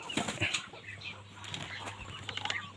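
Muscovy ducklings and ducks in pens peeping and calling in scattered, soft bursts, with light rustling and a low steady hum underneath.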